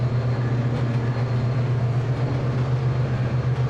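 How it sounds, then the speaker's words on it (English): Diesel locomotive engine in the train simulator game Trainz 2022, a steady low droning rumble with a strong bass hum that holds constant throughout, loud and continuous with no speech. "I'm listening to the sound on these locomotives"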